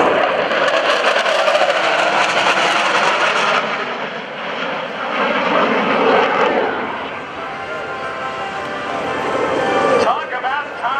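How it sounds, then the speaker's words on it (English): A Helldiver aircraft touches down on a runway at an air show, its engine roaring loudly and steadily before easing off, with an announcer talking over the noise. "Cameras on the Helldiver, ladies and gentlemen, as it comes by. Touching down ever so gently here on the runway."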